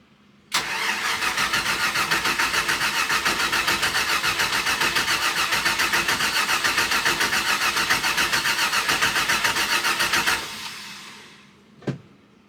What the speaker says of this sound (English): port side engine cranks. It sounds like it has compression. I couldn't get it to fire.